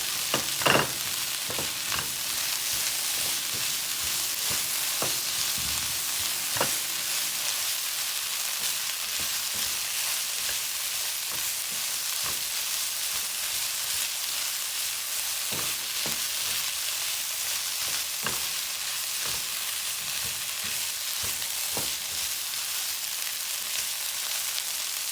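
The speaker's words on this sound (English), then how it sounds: "You want to cook the garlic until it's fragrant." Garlic frying in a pan, giving a steady, dense sizzle that stays loud and even throughout, with occasional small pops and crackles and no voices.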